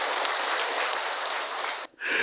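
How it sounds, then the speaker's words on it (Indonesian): An audience at a religious lecture applauds, a dense burst of many hands clapping that continues steadily, then cuts off briefly before resuming. "Tepuk tangan ibu untuk Ahilman."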